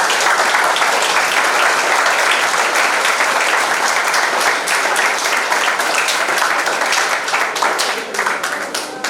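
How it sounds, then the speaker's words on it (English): Loud, sustained applause from the audience at a plant-based diet workshop on a college campus, a thick crowd of clapping hands that carries on for several seconds before easing slightly near the end. "Please give them a loud round of applause"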